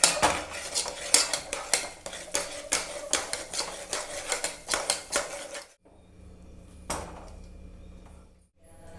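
Cooked dal being mashed in a pot, a series of rhythmic metal clinks and scrapes of a utensil against the pot, close and moderately loud, then a quieter stretch with one more knock.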